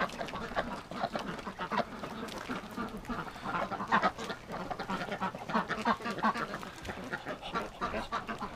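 An injured duck with a hurt hip quacks repeatedly in short, irregular bursts at close range, mixed with other fowl calls, while a person talks softly over them.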